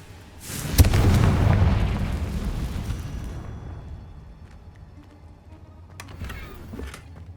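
A Confringo blasting spell detonates in Hogwarts Legacy with a loud, booming explosion that rolls out for a few seconds and slowly fades, followed by softer rumbles and small pops.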